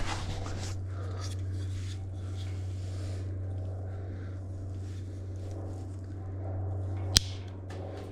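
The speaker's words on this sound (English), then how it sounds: "I'll cut it like right there." A cutter snips through air line tubing in one sharp, close click near the end, set against a steady low background hum.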